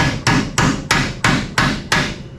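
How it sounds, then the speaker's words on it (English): Steady hammer blows drive bolts out of control arms on a 1969 Chevelle wagon during teardown, seven sharp metallic strikes spaced about a third of a second apart, close and loud with no talk. "So we're going to carefully drive these bolts out."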